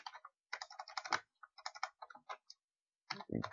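Typing on a computer keyboard, close and clear, with quick bursts of key clicks separated by short pauses and a heavier thump near the end.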